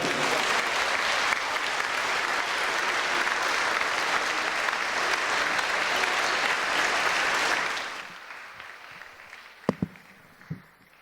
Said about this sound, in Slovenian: dajmo en velik aplavz za njih